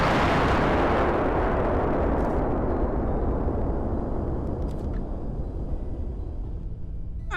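Fireworks going off in the Fireworks Mania game: a loud, booming burst that fills the sound and slowly decays into crackling, fading rumble over several seconds, with a few faint sharp pops near the end.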